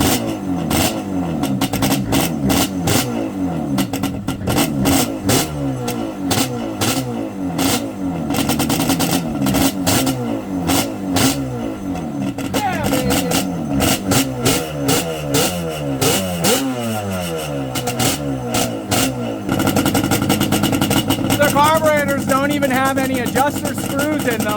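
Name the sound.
Yamaha Banshee 350 engine revving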